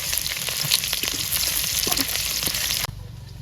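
Chopped onion frying in hot oil with cinnamon and cardamom in a wok over a burner, giving a loud, steady crackling sizzle that runs continuously before dropping abruptly near the end.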